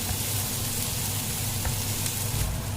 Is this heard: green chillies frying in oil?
yes